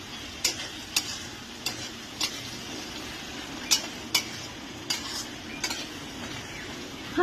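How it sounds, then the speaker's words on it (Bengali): Chicken kosha fries in a pan under a low, steady sizzle, with a utensil clacking sharply against the pan at irregular intervals as it is stirred. "এই যে চিকেন কষা"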